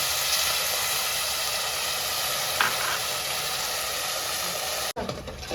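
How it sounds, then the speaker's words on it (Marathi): Finely ground masala sautéing in a pan, producing a constant, even hiss and sizzle close by, ending with a brief clatter. "हा मसाला तर इथे चांगला परतला जातोय"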